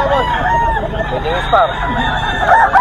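Chickens and roosters on a farm in Pozorrubio, Pangasinan, cluck and crow continuously and loudly nearby, with a dense layer of overlapping bird calls throughout.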